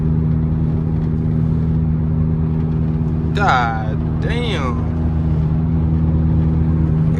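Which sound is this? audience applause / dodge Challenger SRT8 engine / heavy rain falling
dodge Challenger SRT8 engine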